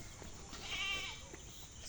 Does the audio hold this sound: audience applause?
no